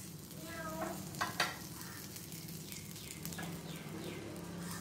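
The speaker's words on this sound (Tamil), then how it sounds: "ஒரு சைடு வந்து நல்லா டோஸ்ட் ஆகிடுச்சு. இந்த பக்கம் திருப்பிட்டு சிம்மில் வச்சுக்கோங்க ஃப்ளேமை." Buttered bread toasting on a pan over a low flame gives a faint, steady sizzle, with a couple of soft clicks as it is flipped.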